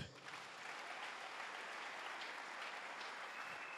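A church congregation claps and cheers for Jesus during a sermon, with dense, steady applause that fills the room from start to finish.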